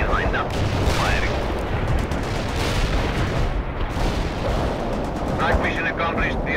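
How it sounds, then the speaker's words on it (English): Artillery pounds away in World In Conflict, heavy booms and crackling gunfire merging into a loud, continuous battle roar that never lets up across several seconds. "Artillery lined up. Firing."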